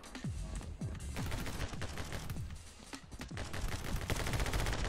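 Rapid gunfire bursts crackle through a video game firefight, dense overlapping shots and sharp cracks rattling steadily across the whole stretch with no talk.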